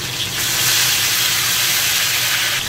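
Cooking wine poured over pig trotters in a hot wok sends up a loud, steady rush of steam and hissing sizzle that holds evenly throughout, close and without talk.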